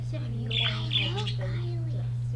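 Pet bird in a classroom chirping in a quick series of clear, close tweets over a steady background hum.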